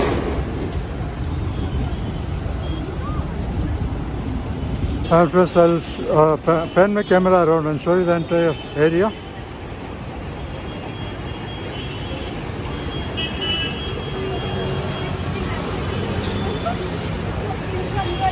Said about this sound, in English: You can see the heavy, very heavy traffic below.